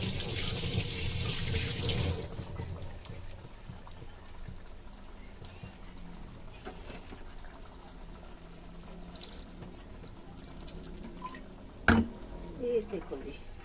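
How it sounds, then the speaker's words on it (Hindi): Tap water runs into a sink as hands are washed after cooking a vegetable dish at home, a steady close splashing stream with a brief louder clatter near the end. "हाथ धो लेते हैं।"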